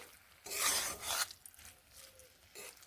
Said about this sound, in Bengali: এইভাবে আরও একটু কষিয়ে নিচ্ছি